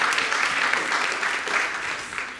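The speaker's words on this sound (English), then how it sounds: "Please, give him a round of applause." An audience claps throughout at a speaker session, a steady dense patter of hands that stays even and fairly loud for the whole stretch, with no voices breaking through.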